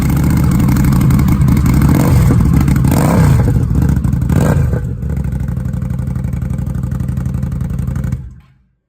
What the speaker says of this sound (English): we have the Reinhardt Slip-On Upgrade for the 2019 Indian Scout Bobber